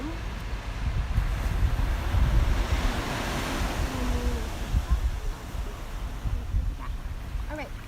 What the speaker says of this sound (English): Yes, the tide is coming in.